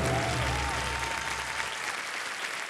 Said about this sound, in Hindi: बहुत बहुत बधाई आप सभी को, तालियां बजती रहे इनके लिए।